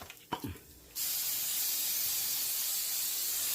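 A brief clatter, then a steady, loud hiss of a coconut oil cooking spray held close, continuing without pause.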